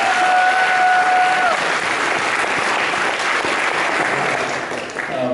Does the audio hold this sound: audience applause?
yes